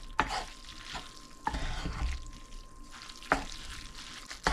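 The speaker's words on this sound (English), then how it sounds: "And then I'm going to mix that all up as best I can." Spoon stirring taco sauce through ramen noodles, soft wet scraping and squelching with a few sharper clinks against the dish, close and fairly quiet.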